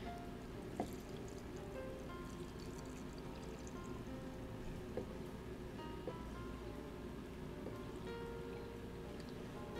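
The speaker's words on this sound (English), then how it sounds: "we can fill the jar all the way up with water" Water filling a jar of wheatgrass seeds, a steady continuous pour with faint trickling and splashing, running evenly at moderate loudness with no voices.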